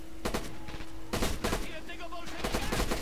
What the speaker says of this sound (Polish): Niestety ktoś tam do nas strzela też z prawej strony.